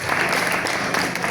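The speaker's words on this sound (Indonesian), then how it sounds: "tepuk tangan untuk Pak RT" Brief burst of dense clapping from a neighborhood gathering honoring the local RT head, a steady wash of hands with no break.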